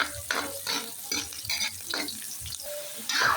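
Native chicken being sautéed in a pan before coconut milk goes in, a steady frying sizzle broken by repeated scraping stirs of a utensil, close up, with no voices.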